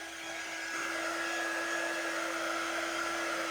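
A heat dryer runs steadily and close by, drying watercolor paste on a lemon painting project: a continuous whirring blow with a sustained whine, alone for the whole stretch with no talk.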